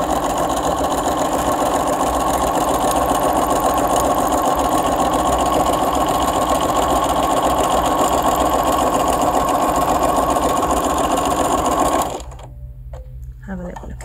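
A Bernina 325 sewing machine stitches at a steady fast pace, a loud, even mechanical whir and rapid needle rattle running continuously before stopping abruptly near the end.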